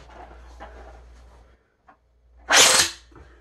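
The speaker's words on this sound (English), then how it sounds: "Flick it out to the side so you can see it extend." A 3D-printed collapsible katana sword flicked out sideways to extend, giving one sharp, loud rattling clack about two seconds in, preceded by quiet room noise and a faint click.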